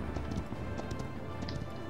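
Hoofbeats of a horse mount galloping in the video game Paladins, a steady clip-clop rhythm running continuously under dense game noise, fairly loud and close.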